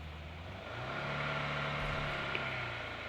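In a shooter video game, a car engine hums and swells as the vehicle drives forward, a fairly quiet, continuous motor drone.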